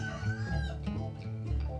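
A hen clucks in short repeated calls, close and fairly loud, with low throaty murmurs running steadily underneath.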